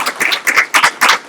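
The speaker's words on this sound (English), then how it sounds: "let's give her a applause for that" A small group claps in short bursts for a young spelling bee winner at a school board meeting, close and brisk, lasting barely more than a second with no voices.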